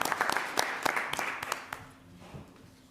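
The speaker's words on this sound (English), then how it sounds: "Another round of applause for you" A small group applauds at a town council meeting, brisk scattered claps that are fairly quiet and distant in the room, thinning out and fading to near silence by the end.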